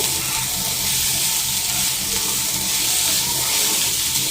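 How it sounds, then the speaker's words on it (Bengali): Teasel gourd (kakrol) frying uncovered in a spice mix in a pan over medium heat, a loud, steady, close sizzle with a hissing edge that carries on without pause. "ঢাকনাটা ছাড়া কাঁকরুলগুলোকে চার পাঁচ মিনিট ভেজে নিব"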